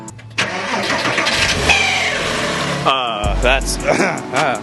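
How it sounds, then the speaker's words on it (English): A Porsche 986 Boxster S engine cold start: the starter cranks briefly, then the flat-six catches and rises to a loud, close idle with a blip. People talk over it. "Let's hear what this baby sounds like on cold start."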